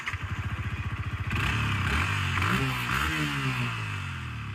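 A motorcycle engine thumps at a steady idle up close, then revs hard into a loud, sustained roar that rises and wavers in pitch before settling.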